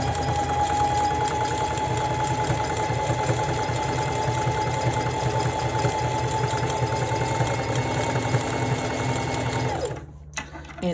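Sewing machine zigzag stitching to flatten a seam on a one-piece garment, humming continuously and close with a fast rapid needle rhythm before stopping abruptly near the end.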